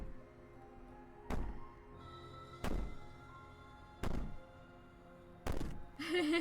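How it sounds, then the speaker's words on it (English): Heavy banging from a princess in the video game Slay the Princess, four loud booming thuds spaced about every second and a half over a low droning background, with a brief harsher burst at the end. "Maybe the banging and wailing will stop if you just don't pay attention to it."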